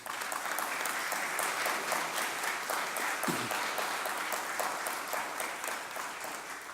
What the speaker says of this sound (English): Will you please give a round of applause to a consistent advocate for African American affairs